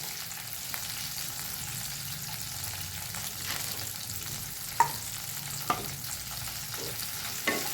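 Onions sizzle steadily in a frying pan while a utensil stirs them until soft, with occasional sharp scrapes and taps standing out above the constant crackle.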